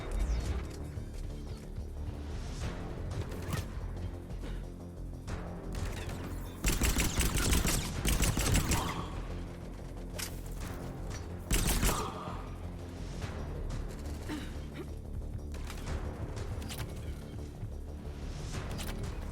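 Sustained gunfire in a Mass Effect 3 firefight, rapid automatic bursts with louder clustered volleys and crashing impacts, dense and continuous with no talking.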